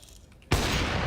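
A single sharp shot from a wall bang in the Counter-Strike video game bursts in after a near-silent moment, followed by a loud, sustained noisy wash that fills the rest of the short span without voices.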